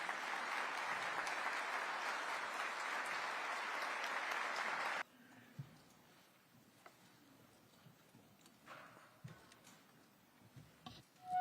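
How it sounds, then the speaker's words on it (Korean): An audience at a Korean government briefing gives steady, full applause to welcome the president, a dense sustained clapping that stops abruptly about halfway, leaving quiet room noise with faint shuffles. "모두 큰 박수로 환영해 주시기 바랍니다."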